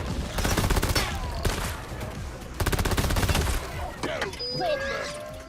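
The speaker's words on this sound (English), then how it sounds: "Gun blast." Gunfire in the video game Rogue Core: loud, rapid bursts of automatic fire in two long volleys, with shorter shots and sharp metallic pings and whines trailing off near the end.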